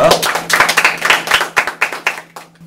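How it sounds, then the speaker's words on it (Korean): A small group claps for a few seconds, individual claps distinct and close, tapering off near the end with a low steady hum beneath. "박수 한번 주시고요"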